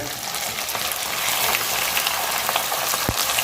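Beef liver and finely sliced onion fry in hot oil with a dense, steady sizzle, loud and close, with a brief clatter near the end.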